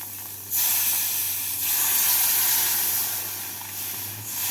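Water poured into a hot pan of fried spinach with spices sets off a loud, steady hiss of steam and sizzle that starts abruptly and holds for several seconds, close up with no talking.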